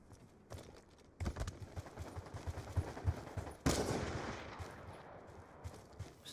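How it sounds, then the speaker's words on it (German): Machine gun fire from a first-person shooter match in Black Ops 2 rattles in rapid bursts, growing louder after a few seconds and ending in a heavy volley amid other game noise. "Er knallt hier rum mit seinem scheiß MG, Alter."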